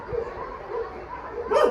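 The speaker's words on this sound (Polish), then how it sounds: "Piesek i Sunia" A dog at an animal shelter gives a short bark and whimpering yips nearby, with a louder bark near the end and light background sound.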